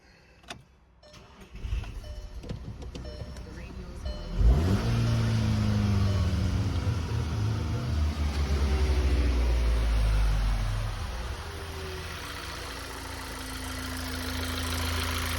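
A Volkswagen GTI engine cranks, catches and settles into a steady idle, loud and close, with some revving and a whining tone rising and falling.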